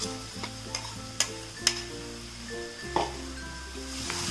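Onions sizzling in a pan with ginger, garlic and green chili paste for a Kerala fish biriyani, stirred with a few sharp utensil clinks over a steady frying hiss.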